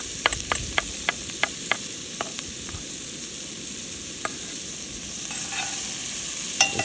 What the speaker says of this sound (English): go ahead and throw our onion in. We're going to saute that down for 4 or 5 minutes.